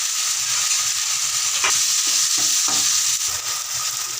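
Tomato, curry leaves and garlic fry in a pan for a dried anchovy gravy: a continuous bright sizzle broken by a few short scraping stirs near the middle, heard up close with nobody speaking.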